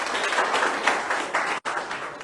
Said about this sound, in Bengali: তার জন্য এটা করতালি